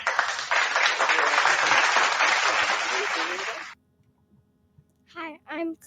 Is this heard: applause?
yes